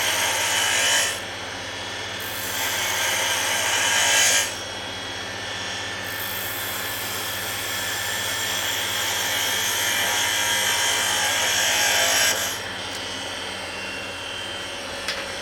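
A woodturning lathe spins at speed as a tool cuts the bugle end of a wooden noise maker, giving a loud continuous hiss and scrape that swells and eases with each pass over a steady motor drone.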